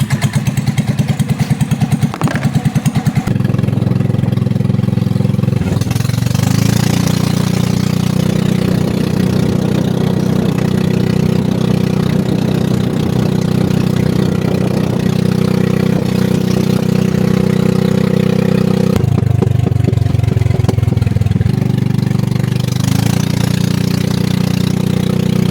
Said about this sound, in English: So we got my brother's golf cart going.